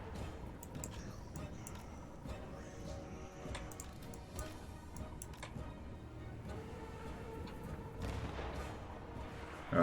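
Units fire in a Total War video game, with rapid, crackling gunshots and artillery-like pops ticking steadily through the whole stretch at moderate loudness, sounding somewhat distant.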